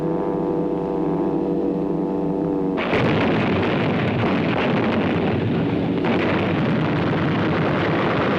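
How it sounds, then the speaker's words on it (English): Bombs exploding on a German factory town during a World War II air raid, a dense, roaring barrage of rumbling blasts that surges in abruptly and keeps pounding, loud and continuous. "Every day, a German factory town is pounded to rubble."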